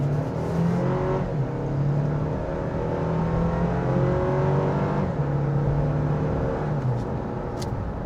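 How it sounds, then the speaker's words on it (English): A 2025 Toyota 4Runner Limited accelerates hard onto a highway, its engine note climbing steadily under full throttle with a rising whir and constant road noise throughout. "let's do a quick acceleration test onto a highway"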